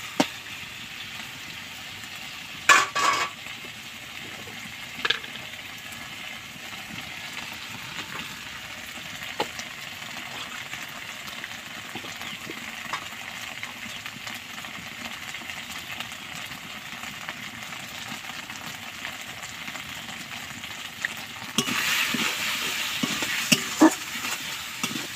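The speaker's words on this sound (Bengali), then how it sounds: "এবার আদা বাটা, জিরে বাটা আর লঙ্কা বাটাটা দিয়ে দেবো। এবার আমি ভালো করে কষিয়ে নেব।" Ginger, cumin and chili paste sautéing in a pan, giving a steady, fairly quiet sizzle with occasional spoon taps, growing louder and busier near the end.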